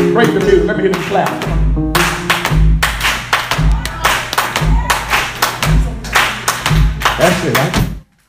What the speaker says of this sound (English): Clap your hands, church, clap.